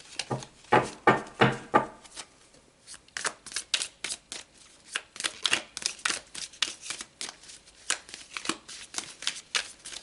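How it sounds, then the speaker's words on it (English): Tarot cards being shuffled by hand in repeated quick riffles and flicks, close and crisp, with short pauses between bursts and no talking. "just as I shuffle these"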